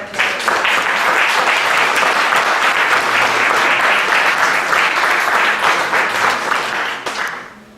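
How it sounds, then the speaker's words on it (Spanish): Applause from an audience at a conference marking the bicentenary of Latin America's first supreme court of justice, honouring a speaker: vigorous, close, steady clapping from many hands that stops abruptly near the end. "Un fuerte aplauso"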